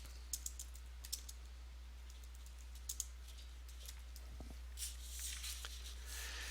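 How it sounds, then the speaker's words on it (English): Someone types on a computer keyboard, producing a scattering of light, quick key clicks in short bursts against a quiet background hum. "and now I can begin to type."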